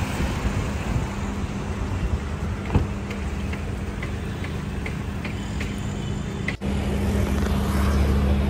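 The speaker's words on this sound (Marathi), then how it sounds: "गाडी आली आपली." A car pulls up and idles nearby with a steady, even engine rumble that holds throughout, dips briefly near the end, and then resumes, with no voices.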